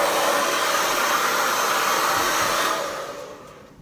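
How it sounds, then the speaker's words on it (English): A hair dryer blows steadily and loudly up close while natural hair is dried, a continuous airy roar that fades away near the end as it is switched off or moved. "So now we're gonna move on to the blow drying step."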